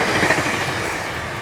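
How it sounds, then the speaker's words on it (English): A train rolling along railway tracks, loud and close, with steady rumble and clickety-clack of wheels over the rails for the whole moment, no voices. "I have a train coming from the south here"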